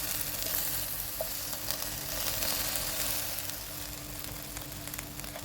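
Tomatoes, curry leaves and dried chillies sautéing in oil for a fish curry, a close, even crackling sizzle with scattered pops, continuous and unaccompanied by speech.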